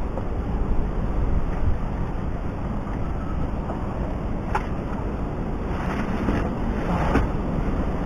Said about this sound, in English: Don't know if you can hear that wind. Pretty sure you can.